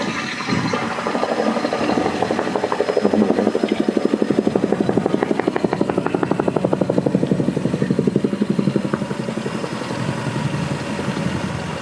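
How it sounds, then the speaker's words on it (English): A helicopter's rotor thumps in a steady, rapid beat with engine whine, loud and sustained for the whole stretch, easing slightly toward the end. "Wow, look at the helicopter go."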